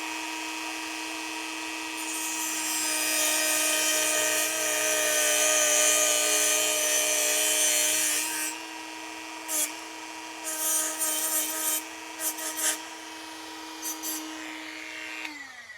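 A power tool whines loudly at close range while cutting throttle lever parts clamped in a vise, a sustained high-pitched grinding for several seconds before it spins down in short intermittent bursts and trails off.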